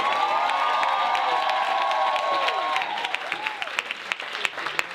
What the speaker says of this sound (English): can we get a huge round of applause for Mr. Christoph Writes?